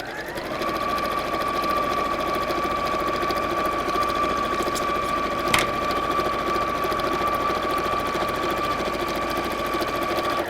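Sewing machine stitching fabric for a pleated bag, humming steadily and continuously at close range with a constant whine and one brief click midway, no talk.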